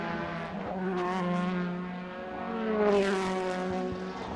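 A DTM touring race car at Zandvoort howls past with a high, sustained engine note. The pitch sweeps through gear changes, rising and fading over several seconds with no talk.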